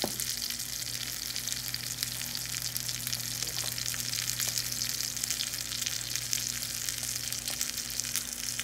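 Salmon frying skin-side down in a pan, a steady, dense sizzle that holds evenly throughout at moderate loudness, with no voices over it.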